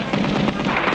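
Rapid cartoon gunfire rattles in a dense, loud burst of bullets being fired, continuous and close with no gaps.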